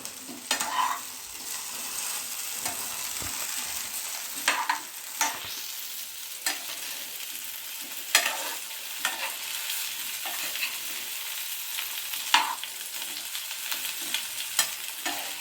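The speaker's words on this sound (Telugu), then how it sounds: "ఇవి కొంచెం నూనెలో వేయాలి. వేగితే అప్పుడు టేస్ట్ బాగుంటుంది. ఫ్లవరు, బంగాళదుంపలు వేగాయి." Cauliflower florets and potato pieces fry in oil in a pan for a home-style gobi curry, with a continuous sizzle broken by repeated stirring scrapes and clatters, close and moderately loud, with no one talking.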